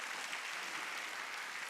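A church congregation claps during a Wednesday worship service, steady dense applause filling the short moment at moderate loudness.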